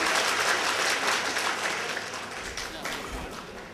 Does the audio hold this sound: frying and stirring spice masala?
no